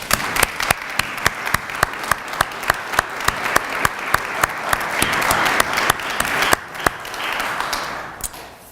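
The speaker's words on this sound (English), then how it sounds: "I think it's appropriate if we give Win a round of applause." Audience applause at a ceramics and glass award ceremony, a room of clapping with distinct sharp individual claps standing out in a fairly regular rhythm over a continuous patter, tapering near the end.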